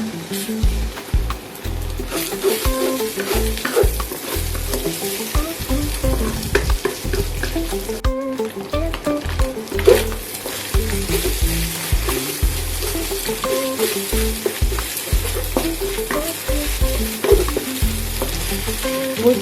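Egg frying in a pan alongside chicken feet, a steady loud sizzle with stirring scrapes and crackles running throughout, no voices.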